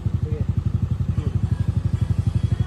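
A stock CVT motorcycle engine with all stock parts revs in a fast, throbbing pulse, loud and close throughout, with a brief bit of background voice.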